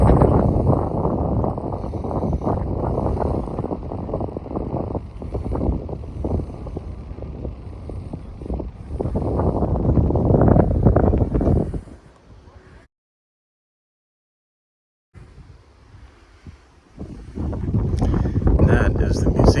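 Strong wind buffets the microphone in a loud, continuous roar on a high castle hilltop, briefly dropping to near silence before gusting back hard.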